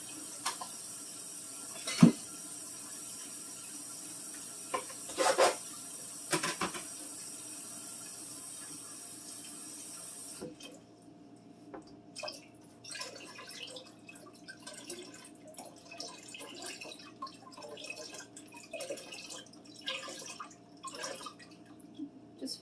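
Water runs from a tap into a pot being filled halfway for cheesy potato soup, with a steady rushing pour and a few drips and clunks near the start, then a lighter, busier splashing as the pot fills, with no talk.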